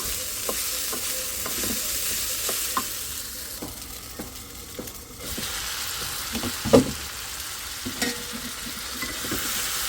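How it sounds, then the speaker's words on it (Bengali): Sautéing a spice mixture in a pan: a constant sizzle with repeated scraping and clinking of a spoon stirring, close and steady, no talking. "খুব সুন্দর করে কষানো হয়ে গেছে"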